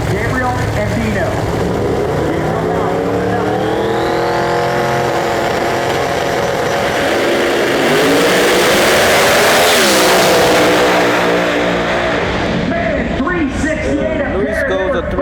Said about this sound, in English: Let's see how he does in that new Chevrolet Camaro in the left lane out of Brazil.